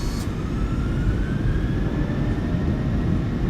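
Jet engines of a PMDG Boeing 737-900ER in a flight simulator spooling up to takeoff power, a loud steady roar with a rising whine underneath, constant throughout.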